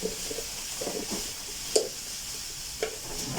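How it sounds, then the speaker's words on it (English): Onions caramelizing in a pan give a soft, steady sizzle, broken by occasional stirring scrapes and a few sharper clicks from a utensil against the pan. "my onions are just caramelizing"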